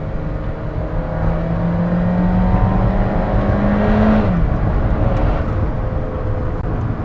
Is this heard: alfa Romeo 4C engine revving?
yes